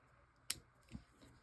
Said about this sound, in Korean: 가위 이용해서 티나지 않게 바짝 잘라주시면 돼요